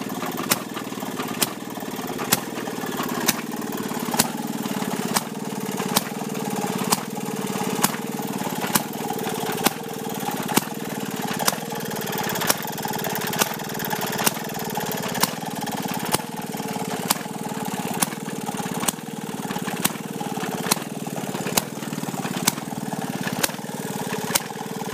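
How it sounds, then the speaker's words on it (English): Early-1900s twin-cylinder Maytag gasoline engine, the last gas model the maker built, running steadily with no carburetor, giving a regular rapid chain of sharp firing pops over a mid-pitched mechanical chug, close and fairly loud throughout with no voices. "Twin cylinder Maytag, the last gas motor they made"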